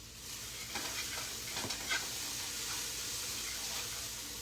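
Food being stirred in a pot of oil, a soft continuous sizzle with a few faint scraping strokes from a utensil, quiet and without talk.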